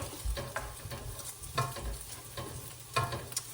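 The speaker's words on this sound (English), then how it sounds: "Hope you guys aren't all getting super bored by my crisping skills with pancetta." Pancetta crisping in a frying pan, a close, busy crackle and sizzle with repeated stirring knocks and scrapes at irregular intervals, with no voices.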